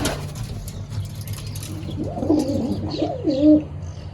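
Soft, low pigeon coos rise in a couple of rounded phrases over a steady low hum, close by, with no talking.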